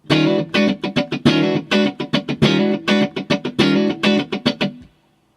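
Funky electric guitar groove with choppy rhythmic strums, sliding chords and short muted clicks, played alone before ringing out to silence.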